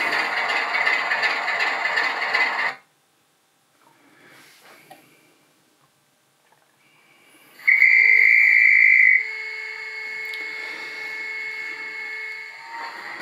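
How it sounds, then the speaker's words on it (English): A Bachmann Class 25 model locomotive's DCC sound decoder whistle: a sustained, shrill tone sounds loudly for about a second, then continues more softly over a steady mechanical hum; an earlier stretch of broadband buzzing precedes a quiet gap. "I wonder if there's a way of disabling the whistle."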